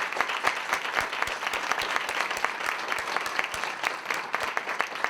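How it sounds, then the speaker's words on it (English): Sustained audience applause fills a speaker-series venue, a dense, steady patter of many hands clapping at close-to-moderate distance with no voices over it. "I just want to ask you to applaud once more."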